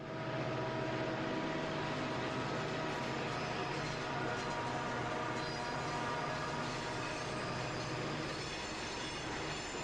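A BNSF freight train locomotive climbs Stevens Pass in the Cascades with a steady, dense rumble and roar that holds an even level throughout, with no pauses and no talking.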